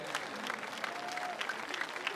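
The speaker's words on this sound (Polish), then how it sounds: "Wielkie brawa dla nich" Steady, fairly faint applause from a crowd gathered at Jasna Góra to welcome pilgrims arriving on the seventh day of a walking pilgrimage. The clapping is dense and unbroken, with a few voices mixed in.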